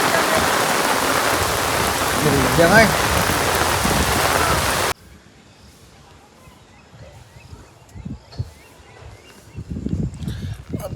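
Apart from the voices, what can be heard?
heavy rain falling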